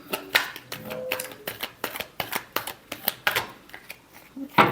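A deck of tarot cards is shuffled by hand in a quick series of crisp riffles and flicks. The slaps come close and sharp in a steady rhythm for a few seconds.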